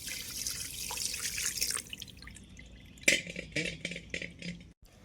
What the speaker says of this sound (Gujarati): આમાં છે ને ઠંડુ પાણી નાખી દેવાનું